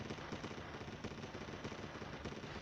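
A gun firing in the mobile shooter Respawnables, a fast continuous rattle of automatic shots held for a couple of seconds, quiet and fairly uniform, with no voices.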